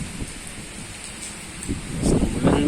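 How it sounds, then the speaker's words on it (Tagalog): Heavy rain pours steadily outdoors, a dense continuous hiss that swells louder toward the end, with no talk over it. "Lakas ng ulan sa labas, oh."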